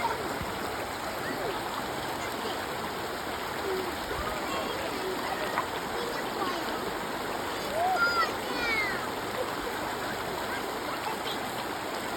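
A river where children bathe flows with a constant rushing, splashing murmur, and faint voices and occasional calls are heard over the water.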